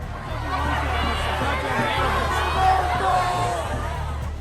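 A large crowd of students gathered in protest, a dense wash of many overlapping raised voices and chatter, with occasional whoops rising out of the steady hubbub.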